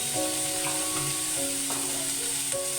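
Cumin powder, coriander powder and salt fry in a pan for Bengali chilli mushroom, giving a steady close sizzle with light stirring scrapes and no talk.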